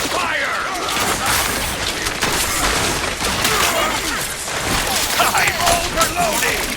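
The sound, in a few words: gunfire at a turret in Overwatch, a video game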